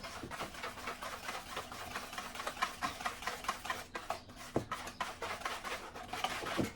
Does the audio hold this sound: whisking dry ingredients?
yes